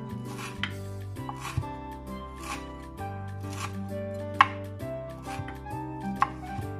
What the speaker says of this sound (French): Je commence par couper mon persil.